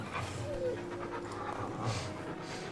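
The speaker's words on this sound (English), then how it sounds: "What a fine hound." A hound in the video game Final Fantasy XVI pants steadily with quick, rhythmic breaths and a soft whimper, close and moderately loud over a continuous ambient game background.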